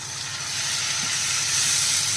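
Medium onion and tomato sauté in a pan for egg kothu chapati, giving a continuous, close frying sizzle and hiss that holds steady throughout.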